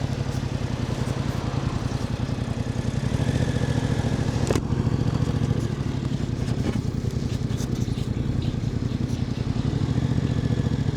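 Yamaha Tracer 7 motorcycle engine heard while riding, a rhythmic low throbbing exhaust note that stays steady and close with wind rush over it, no voices.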